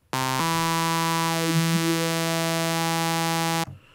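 A deep, steady synthesizer sub bass tone buzzing on one sustained note for about three seconds, loud and alone, then cutting off abruptly.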